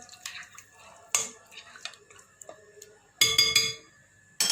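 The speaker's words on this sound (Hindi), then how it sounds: "खुश्क अनारदाना का पेस्ट, दही, इसको अच्छी तरह से मिक्स कर लेंगे।" A yogurt and dried pomegranate seed paste marinade with ginger-garlic paste is mixed in a bowl for chicken achar gosht, making scraping, clinking spoon-on-dish sounds in bursts, loudest near the end.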